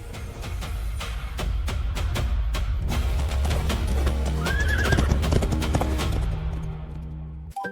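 A horse clip-clops steadily and gives a rising whinny partway through, the hoofbeats clear and close over a continuous low rumble, with no talk.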